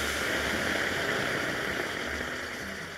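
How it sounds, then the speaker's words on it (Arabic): Hot water pours steadily into a cooking pot being set up for steaming, a continuous close rushing, gurgling stream that fades slightly toward the end. "اجيب حله زي الحله اللي معانا دي كده، احط فيها ميه سخنه،"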